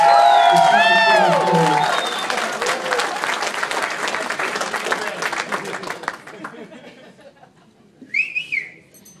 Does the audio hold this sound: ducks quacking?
no